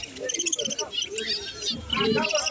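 Zebra finches at a busy bird market give rapid high chirps and nasal tweets from several birds, mixed with indistinct human chatter and crowd noise in the background.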